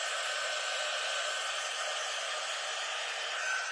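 A hair dryer blows in a steady, even whoosh close by, running continuously for several seconds at a craft table with no talking over it.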